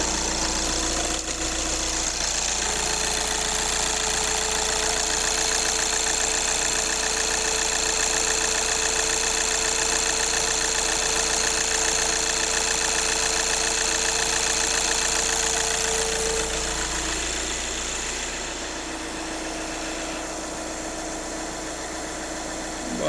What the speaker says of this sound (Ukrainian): Зараз прогріється автомобіль.